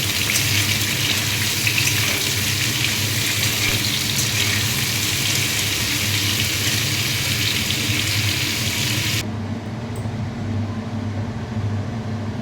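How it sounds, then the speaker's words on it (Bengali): Onions frying in hot oil for a jackfruit curry give off a dense, steady sizzle with constant crackling. The high hiss drops away abruptly near the end, leaving a softer bubbling, with no talking. "তেলের মধ্যে এবার আমি পেঁয়াজগুলোকে দিয়ে একটু ভেজে নেব।"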